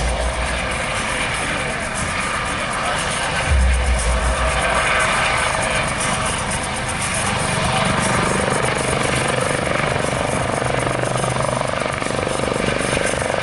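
A twin-turbine helicopter roars steadily and loudly overhead at an airshow, a constant rotor and turbine drone that continues throughout with no pauses.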